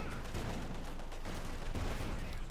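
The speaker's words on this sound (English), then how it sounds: "Calling in artillery on the field guns" Artillery strikes land on field guns in Company of Heroes 2, a low, continuous rumble of distant blasts with a few stronger thuds, fairly faint.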